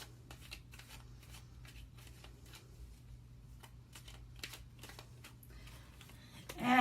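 Morgan Greer tarot cards are shuffled in a quiet room, a series of soft, quick papery riffles and flicks over a low hum, ending with a louder rustle at the close.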